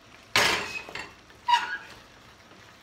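A wooden spoon stirs sausage, spinach and pasta in a pot, two loud clattering scrapes against the pan about a second apart, with quieter rustling between, close and without talk.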